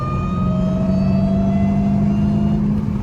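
Supercharged Dodge Hellcat under way, its high, steady supercharger whine riding over a deep engine rumble, close and loud, pitch sliding gently as the car cruises, with no talking.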